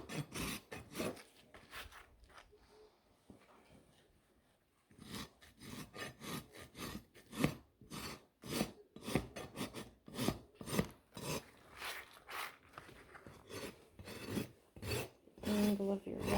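A rasp files a horse's hoof during trimming, close and loud in rapid rhythmic back-and-forth strokes after a short pause, no talking heard.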